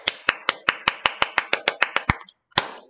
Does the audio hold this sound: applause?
yes